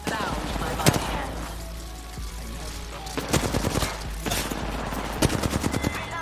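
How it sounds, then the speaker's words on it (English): Video game gunfire in a shooter with recharging shields: several rapid bursts of automatic fire, sharp and close, separated by brief lulls, with a voice talking over parts of it. "I'm getting shot at"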